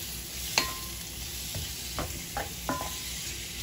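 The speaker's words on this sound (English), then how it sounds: "once you got your olive oil heating up enough, and all I'm gonna do now is cook it like that" Chicken pieces fry in olive oil with a continuous soft sizzle, punctuated by several light clinks and scrapes of a utensil against the pan, fairly quiet and close with no speech.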